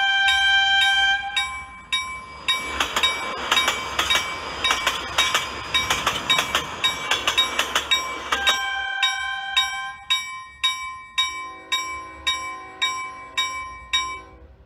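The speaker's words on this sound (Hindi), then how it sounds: "हमें बाकायदा एक ट्रेन साउंड, उसका हॉर्न" A train-tracking phone app plays an alert of ringing bell chimes, a burst of train rumble and a horn tone, then a steady rhythmic series of bell-like dings, loud and close with no voices.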